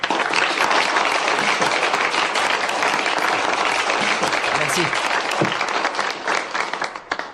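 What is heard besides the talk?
audience applauding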